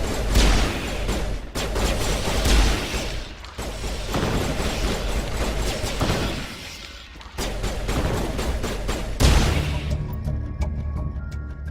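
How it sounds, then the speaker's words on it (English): A firefight breaks out in the PC game Mass Effect. Loud, dense bursts of gunfire and heavy impacts come in several waves separated by brief lulls, with mechanical clanks and no talk. "Open fire. Open fire!"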